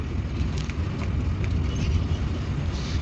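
Steady, dense roar of heavy traffic on the GT road, a continuous close rumble of car and vehicle engines with no pauses.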